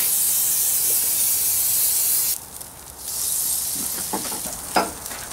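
Speckled trout on the half shell sizzling and hissing on a barbecue pit, a steady loud frying crackle that dips briefly, then returns with a few sharp pops.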